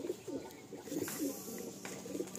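Madrasi pigeons coo in a loft, with soft repeated low throaty calls in a steady rhythm, close by and fairly quiet against a faint background hiss.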